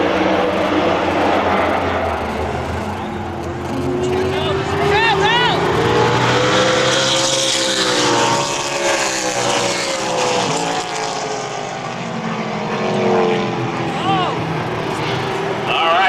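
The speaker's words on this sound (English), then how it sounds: "Brad Stanwood opens up an almost insurmountable lead here on lap number 2" Race cars in a trophy dash roar around a track, a sustained loud engine drone with pitch sweeps as cars pass, heard under an announcer's commentary throughout.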